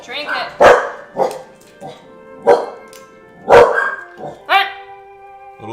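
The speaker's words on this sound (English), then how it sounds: "Dogs!" A dog barks in a series of sharp, loud, close barks at irregular intervals, with whimpering, yipping tones in between and people talking around it.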